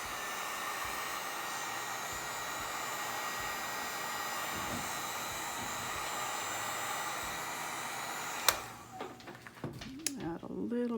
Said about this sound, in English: And she's my heat gun.